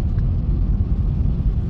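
Sunday road traffic in Pune makes a steady, loud low rumble of engines and tires, a continuous drone with no speech over it.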